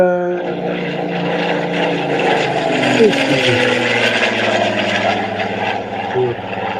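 An RC model airplane's engine or propeller drones loudly and steadily nearby, its pitch sliding and wavering as the plane takes off and flies.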